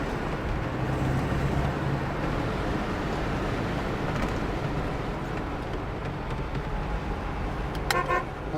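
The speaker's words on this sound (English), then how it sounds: "Horn works nice." A 1966 Chevrolet Corvette 350hp four-speed gives a short, sharp honk of its horn near the end, over a steady rumble of engine and outdoor background noise.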